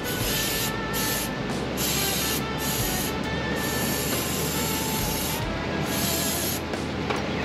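Contact cleaner sprayed onto the starter of a 1986 Wheel Horse 417A tractor during a starter overhaul, a loud continuous aerosol hiss in several long bursts with short breaks, close up and alone.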